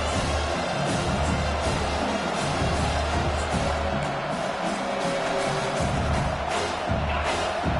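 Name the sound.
football stadium crowd roaring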